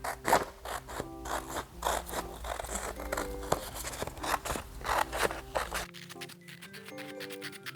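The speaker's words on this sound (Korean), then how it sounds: "나비 모양을 오려주세요." Scissors snip a butterfly shape out of coloured paper in a run of quick, repeated cuts over steady background music, which shifts to a sparser tune near the end.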